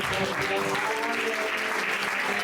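A church congregation applauds and cheers in praise of the Lord: a dense, steady wash of clapping with raised voices and a sustained musical tone running underneath.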